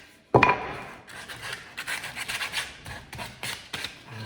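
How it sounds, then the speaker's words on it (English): Rough rasping strokes of sandpaper over a timber stair part, starting with a sharp scrape and continuing in irregular back-and-forth bursts close by. "I'm just going to harris this with sandpaper, just because we're keeping it."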